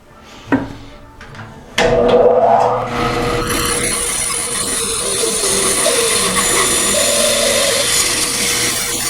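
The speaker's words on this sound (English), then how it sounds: "we've got to shape that with the rasp" A rasp shapes mahogany for the curved feet of a blockfront chest, starting with a few sharp knocks and then a loud, steady rough rasping that runs continuously close to the work.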